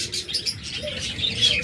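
Pet budgerigars and lovebirds kept for sale chirp in a busy, overlapping twitter of small calls, with faint lower murmuring beneath and no clear speech.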